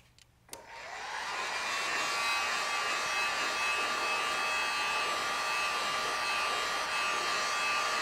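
A heat gun blows steadily while heat-setting paint on a holographic largemouth bass fishing lure, a loud continuous whooshing hum that starts abruptly after a click and holds alone to the end.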